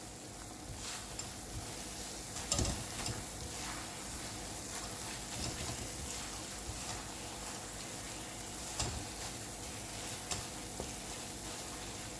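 Indian peda sweet mixture stirred in a pan, with a steady soft sizzle and scraping strokes that swell every few seconds, low and continuous with no talking.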